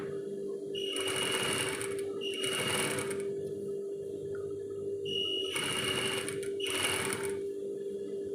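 Nearby, a sewing machine stitches a V-neck placket on thin fabric, running in short whirring bursts with brief pauses between them over a steady motor hum.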